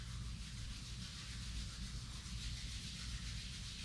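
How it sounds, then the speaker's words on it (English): Palms rub together in a soft, continuous swishing friction during a yoga session, quiet and steady throughout without any pauses. "Rub your palms."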